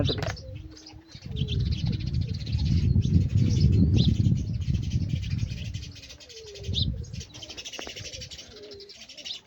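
About thirty pigeons coo steadily in low, throaty rolls in a village, several birds overlapping close by, with soft chirps and an occasional flutter of wings.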